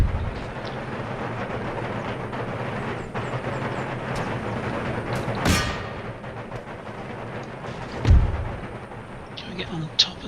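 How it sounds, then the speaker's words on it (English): Artillery fire in the Empire Total War battle game, Darthmod mod, with the Spanish army: a continuous rumbling battle din with a sharp cannon boom midway and a heavier low thump later. "Let's keep the artillery going."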